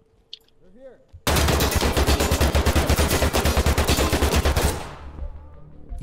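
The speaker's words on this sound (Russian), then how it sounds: "Долго я, конечно, терпел выстрелы от него." A long, loud burst of rapid automatic fire in a special-forces shooter video game, following a few faint earlier sounds and trailing off after about three and a half seconds.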